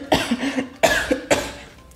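Three distinct coughs from the mosquito bus driver in a children's story, each a sharp burst with a short rasping tail, spaced about half a second apart, close and fairly loud with no other sound.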